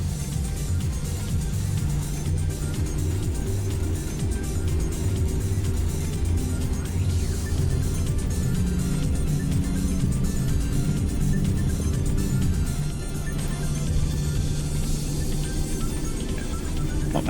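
A modded truck's engine in American Truck Simulator rumbles low and steady from an exterior view, a continuous drone with slight swells in revving, fairly quiet and unbroken throughout.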